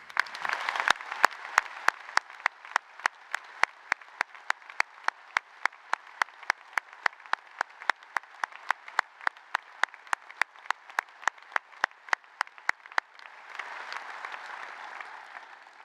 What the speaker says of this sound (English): graduates and guests, please applaud